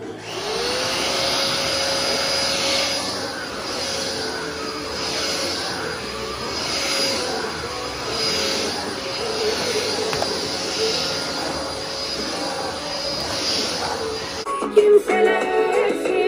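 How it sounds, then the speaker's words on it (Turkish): A household vacuum cleaner runs steadily and loudly while a house is vacuumed, a continuous whine with pulsing airflow that stops abruptly near the end, followed by brief clatter. "Hemen evi süpürüyorum."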